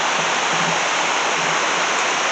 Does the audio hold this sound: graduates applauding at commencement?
no